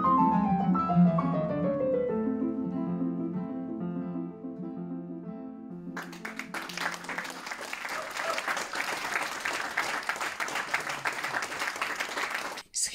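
Audience applause after a classical guitar recital by Łukasz Kuropaczewski, a dense steady ovation from a full hall that swells in over the final guitar notes and continues loud and sustained.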